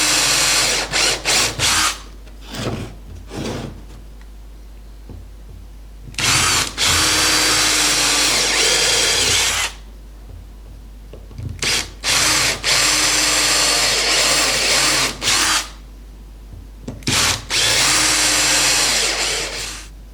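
A power drill bores 3 mm countersunk holes into a wooden board about an inch from its ends, in loud, close bursts of whining drilling separated by short pauses.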